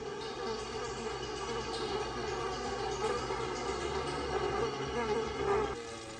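A swarm of honeybees that has settled away from its old hive gives a steady, dense buzzing drone throughout, fairly loud and close, with no talk.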